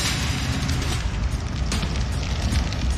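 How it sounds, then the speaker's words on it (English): Roaring fire with a deep rumbling boom from a house explosion and blaze in a quiet neighborhood at 4 a.m., a dense, continuous low roar with crackling bursts throughout. "They all awoke to the sounds of this explosion and this fire."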